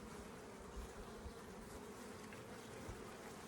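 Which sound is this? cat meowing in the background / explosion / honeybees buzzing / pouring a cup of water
honeybees buzzing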